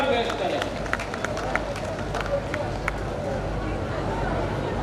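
Sustained crowd applause at a foundation-stone ceremony for phases 3 and 4 of the Devas project in Gogunda, Udaipur: a dense, steady wash of many hands clapping, with a few sharper claps standing out.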